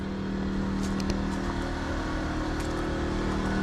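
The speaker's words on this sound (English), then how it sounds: "I'm just hooked into my little generator right now for lights." A small generator powering the lights of a 2017 Keystone Montana fifth-wheel RV, a steady low motor hum droning evenly and fairly quietly with no pauses.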